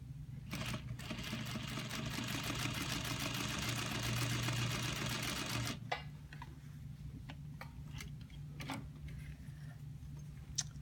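A Juki lockstitch industrial sewing machine runs a short test stitch, a close, steady whirring rattle for about six seconds that stops abruptly, followed by faint clicks and a low background hum.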